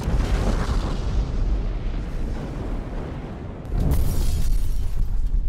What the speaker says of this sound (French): à 21h49, la bombe va enfin exploser